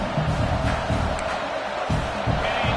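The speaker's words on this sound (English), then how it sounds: "This crowd, full throat, splitting the eardrums" Full-throated football stadium crowd roaring at the Michigan State versus Michigan game, a loud continuous wash of voices with rising swells, heard close and dense.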